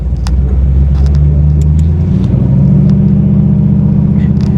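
A 500hp 1987 Chevy Monte Carlo SS engine idles at around 750 to 800 RPM, a loud, close, deep burbling rumble with steady low harmonics and a slight shift in pitch partway through.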